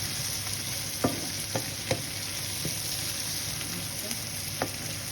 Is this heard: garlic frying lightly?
yes